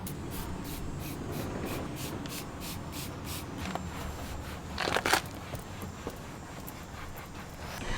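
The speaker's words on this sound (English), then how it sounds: "We're gonna spray the leather seats directly with this, and then I'm gonna use a cloth to wipe it down" Quick repeated spritzes from a spray bottle onto leather car seats, followed by steady rubbing and wiping of a cloth over the leather, with a louder spray burst midway.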